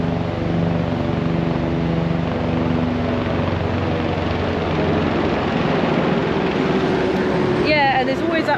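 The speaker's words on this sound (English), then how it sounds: "Sorry, one of these helicopters are coming." A helicopter flies over Fox Glacier, a steady loud rotor and engine drone filling the scene, with people talking over it throughout.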